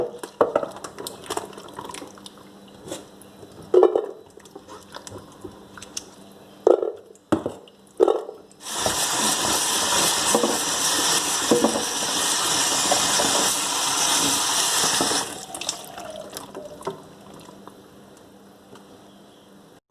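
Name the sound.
washing wild mushrooms by rubbing them in water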